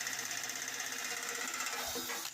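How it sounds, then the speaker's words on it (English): A wire brush scrubs a car chassis to prepare it for painting, producing a loud, rapid, rattling buzz that holds steady and close for the whole stretch. "And then move on to the wire brush."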